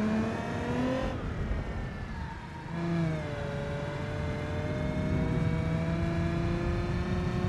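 A LeGran limousine with exhaust snorkels drives in the video game BeamNG, its engine whining in rising, gear-like sweeps with brief dips between shifts, continuous and fairly close with no talking.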